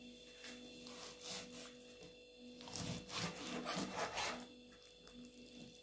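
Knife cutting and opening up raw beef liver on a board to slice it thin. Faint, close scraping and sawing strokes come in uneven bursts over a quiet background hum.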